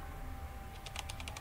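Keys clatter on a computer keyboard in a quick run of clicks, typing a search into a browser on a PC, close and clear over a quiet room hum, with no talking.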